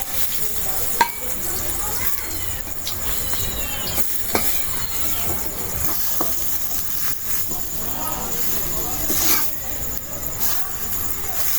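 Chunks of beef sizzle in hot oil in a home kitchen, a soft continuous frying hiss with occasional stirring clatter, fairly quiet and steady throughout.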